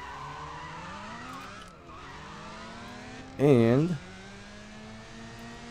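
A bone-stock Mazda RX-7 or Honda S2000 races in the mobile drag racing game CSR2, engine whining and rising through gears with a brief tire squeal midway, while someone talks over the game audio.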